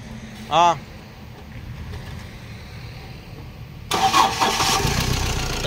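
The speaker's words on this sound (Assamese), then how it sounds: "এইটো হ'ল ইঞ্জিন, এবাৰ ষ্টাৰ্ট দিয়া।" A Mahindra Bolero Maxx pickup BS6 engine cranks and catches, a brief loud starter burst early on, followed by a steady low rumble that swells louder near the end as the engine runs; no talking.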